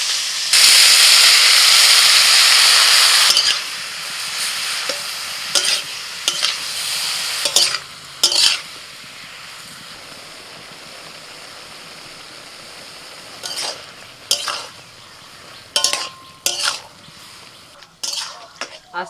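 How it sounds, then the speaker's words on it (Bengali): Mushrooms hit a little hot oil in a kadai, a loud burst of sizzling that fades to a softer hiss, followed by scattered sharp scrapes and clinks of stirring. "কড়াইতে অল্প একটু তেল দিয়ে দিচ্ছি মাশরুম।"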